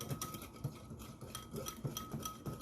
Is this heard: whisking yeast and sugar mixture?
yes